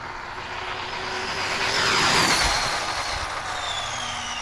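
A small electric car with a low-Kv motor zips off down the road on a test run, a rising whine and rushing whoosh that swell to a peak midway, then ease off, with no talking.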